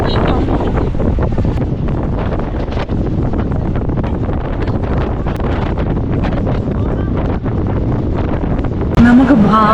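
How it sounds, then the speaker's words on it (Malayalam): Strong wind buffets a train carriage near Pamban on the Rameswaram to Tambaram rail route, a loud, steady roaring rush that fills the whole stretch with almost no letup. "അപ്പുറത്തെ കാറ്റ് വരുന്നുണ്ട് കേട്ടോ"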